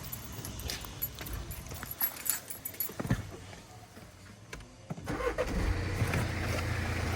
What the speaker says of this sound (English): I'm going to start the car to show you one more thing.